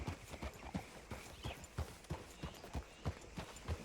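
Steady, rhythmic clip-clop of horse hooves at a walking pace in Red Dead Redemption 2, moderately faint over a soft background.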